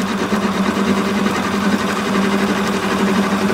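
Metal lathe taking a steady cut on a workpiece, with less intermittent cutting now, gives a continuous, even whir with a steady hum, close and alone.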